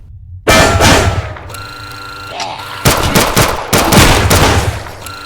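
Loud bursts of automatic gunfire from the zombie shooter game Zompiercer, played on PC inside a tunnel, crack in rapid volleys with short pauses over a steady game music bed.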